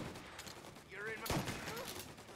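A burst of gunfire in the video game Mafia Definitive Edition, a sharp loud volley amid game sounds, with characters' voices speaking around the shots.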